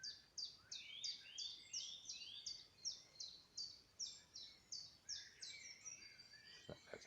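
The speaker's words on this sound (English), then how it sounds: "That's a blue tit, a blackbird." Clear, repeated song of a blue tit and a blackbird rings out in a quiet outdoor space, with bright whistled phrases and chattering notes layered together, fairly faint and distant.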